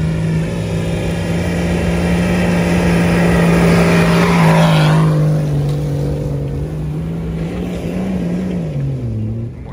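A car with an M57 diesel engine accelerates hard, a loud, close drone climbing in pitch and easing off, then settling lower as the load drops, with no speech over it.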